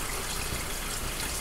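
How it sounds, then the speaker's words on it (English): Water pours into a soup pot over chicken for a basic chicken broth, a faint, steady gushing stream heard alone for a brief moment. "Now we're going to put our water in."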